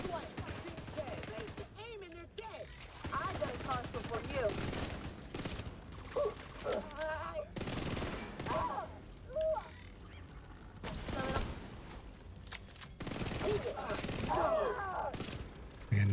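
Repeated bursts of gunfire in a video game, loud rapid volleys of shots separated by short pauses, with brief clinks and handling noises between them.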